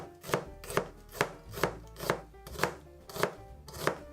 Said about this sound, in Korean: 양파를 잘 얇게 썰어서